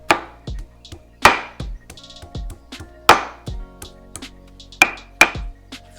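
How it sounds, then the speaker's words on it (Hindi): Ginger being crushed by pounding, about a tablespoon for vegetable pakora, heard as sharp, close, irregularly spaced thuds and knocks, some heavier blows among lighter taps, with no talk. "अब मैं इसमें थोड़ी सी अदरक भी कूट के डालूंगी।"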